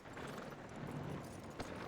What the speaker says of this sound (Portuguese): Leva o cavalo até o palanque